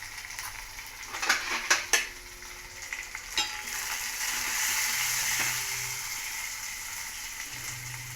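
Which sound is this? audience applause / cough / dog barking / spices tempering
spices tempering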